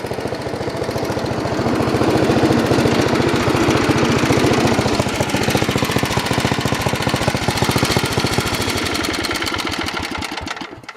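A 1969 Briggs & Stratton 7 hp vertical shaft engine runs loud and close, a rapid, steady chugging exhaust beat that holds throughout and quickens slightly toward the end.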